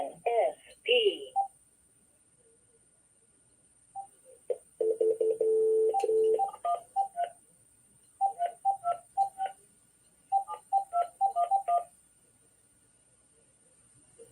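Touch-tone telephone keypad tones: a burst of dialing beeps, a long steady tone, then several quick runs of short evenly spaced DTMF beeps over a faint constant high whine, with a brief voice at the start.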